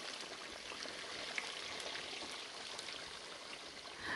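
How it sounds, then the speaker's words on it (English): A small homemade backyard fountain on a hay farm trickles and splashes steadily, a faint, continuous patter of running water outdoors with no one talking. "That's a little fountain that I was building."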